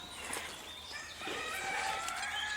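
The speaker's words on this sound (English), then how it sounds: "All the chickens are going ballistic." Chickens clucking agitatedly in a flock, a busy cluster of squawks and clucks at moderate distance, fairly faint, with no talking over them.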